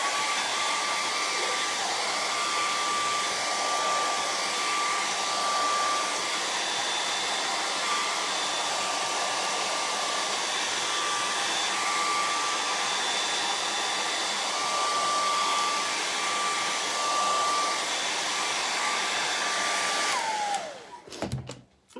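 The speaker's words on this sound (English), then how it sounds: "I'm going to hit this with a blow dryer real quick" A blow dryer runs steadily for about twenty seconds, loud and close, used to dry paint on a hand-painted bunny decoration for a front door, then clicks off at the end.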